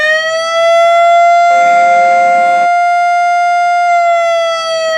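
A Whelen siren tone plays through a speaker driver, a loud steady wailing tone holding near one pitch for the full five seconds, with a brief burst of broadband hiss partway through.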